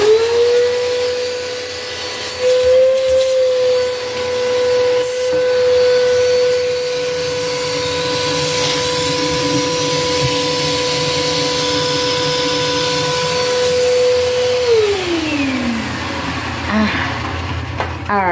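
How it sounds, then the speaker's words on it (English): A vacuum cleaner cleans underneath a bathroom cabinet, droning loudly and steadily with a sustained whine for about fifteen seconds before the motor pitch drops as it winds down. "So we're gonna take our vacuum"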